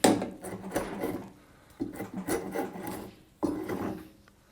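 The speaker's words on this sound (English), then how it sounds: "Very nice draw knife. Works exactly as I would expect it would." A draw knife shaving long strips off wood makes three rasping scraping strokes, each starting with a sharp bite and trailing off. The strokes are close and come in a steady rhythm with short pauses between them.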